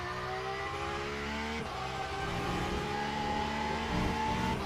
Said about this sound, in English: I love that flat 6 engine sound.